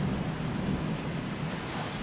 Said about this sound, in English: There's still thunder and lightning out there, as you can tell.